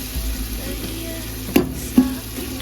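Tomatoes sautéing in a pan for mutton biryani, a low steady sizzle with two quick sharp utensil knocks near the end.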